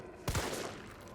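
Gunfire in the Resident Evil 3 Remake video game: a loud, sharp burst of two or three close shots in quick succession, trailing into a reverberant rumble that fades.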